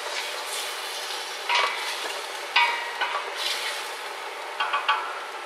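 Onions fry in a pan for Polish borscht with a steady close sizzle, punctuated by several clinks and scrapes of a utensil stirring them against the pan.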